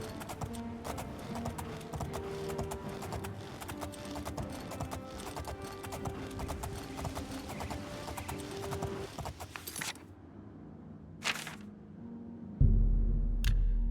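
Horse hooves clop at a steady gallop in the video game Oblivion, a continuous loud rhythmic patter running for most of the stretch before breaking off, with a brief whinny near the end.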